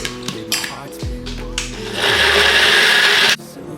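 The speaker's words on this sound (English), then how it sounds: "You add a little bit of water, then you blend it." A kitchen blender whirs through onions, ginger, garlic and spices with a little water, starting with clunks and motor hum before a loud steady grinding roar that cuts off abruptly.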